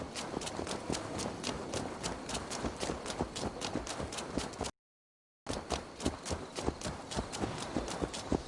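Rapid, even video-game hoofbeats from Assassin's Creed Valhalla clip-clop on a hard surface, broken by a brief moment of silence before the steady trotting rhythm resumes.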